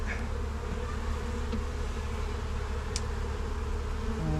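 Honeybees buzzing steadily around an open hive during a sunny-day inspection, a continuous close drone of many wings with a faint click or two and no talk.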